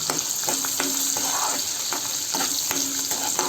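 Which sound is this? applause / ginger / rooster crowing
ginger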